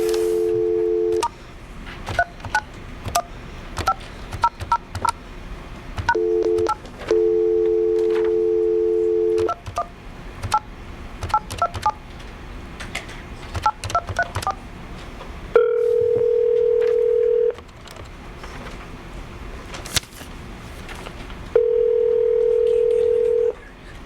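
A landline telephone gives steady dial tones broken by quick touch-tone keypad beeps as a number is dialed, then a few longer single tones like a network signal, all loud and close with faint speech in places.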